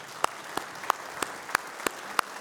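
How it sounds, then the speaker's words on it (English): Sparse, widely spaced claps at a mining health and safety conference, a few audience members clapping slowly and quietly in a steady rhythm rather than full applause. "so let's give them a big round of applause."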